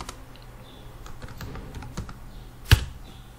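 Quiet, steady tapping on a computer keyboard while entering text into a spreadsheet, a run of light keystrokes ending in one sharper, louder key press, with no one speaking.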